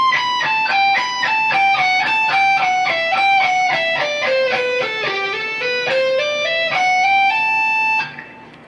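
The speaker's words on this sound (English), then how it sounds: "the entire phrase up to this point should look and sound like this" Lead phrase from a solo on electric guitar, played alone as a fast string of legato hammer-on notes that climb and fall steadily, ringing bright and sustained before cutting off at the end.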